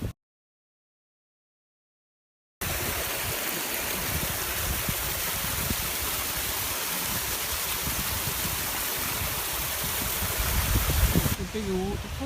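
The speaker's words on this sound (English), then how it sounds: "I've got to cross this little waterfall here." Steady broadband rush of a small waterfall stream on a Lake District fell walk between Seathwaite and Styhead Tarn, loud and close, running continuously after a brief silence at the start.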